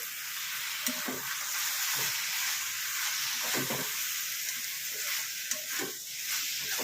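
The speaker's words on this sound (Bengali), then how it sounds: "একবার নাড়িয়ে দিলে হয়তো ভালো হতো।" Mutton keema fries in a pan over low heat, giving a steady close sizzle and hiss, broken by repeated scraping strokes of a spoon as the mince is stirred, with no talking.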